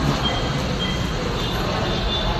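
Ride aboard a Manila LRT light rail train, a steady low rumble and hiss of the car in motion filling the space continuously, with no distinct breaks.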